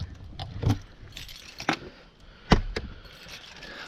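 A set of keys for a 2022 Forest River Wolf Pup 16BHS camper jangles in several distinct shaking bursts, close and fairly loud, with brief quiet between them and no talking.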